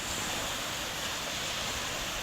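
Broadband rushing wash of sea waves at the beach, steady and fairly faint, with no voices.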